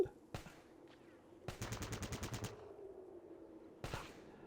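Gunfire in a Fallout video game: a single shot, then a rapid burst of about ten shots, and another single shot near the end, all fairly faint.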